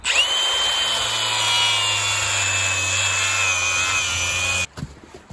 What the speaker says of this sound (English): And we're going to cut this filler neck here.